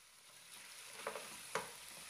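Beef sizzles with spices in a pot, browning for a yakhni pulao with a soft, steady frying hiss, broken by two sharp clinks of a spoon stirring against the metal.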